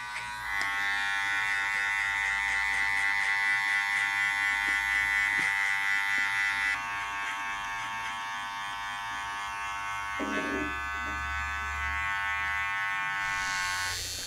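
Electric hair clippers buzz steadily while cutting hair with a number one guard, a close continuous hum whose pitch shifts slightly midway as the cut proceeds, with soft brushing sounds near the end.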